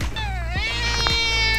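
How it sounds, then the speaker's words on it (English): A cat meows close by in one drawn-out, wavering cry that rises and bends, heard clearly over a steady low background hum. "Hey, gorgeous little kitty"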